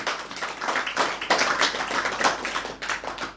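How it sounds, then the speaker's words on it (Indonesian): An audience at a religious lecture on spiritual teachers claps in uneven bursts, the slaps close and crisp, swelling and fading in waves over a few seconds with no talking. "Tepuk tangan."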